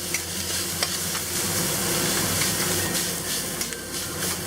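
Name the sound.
stir-frying chili bean paste for Ma Po tofu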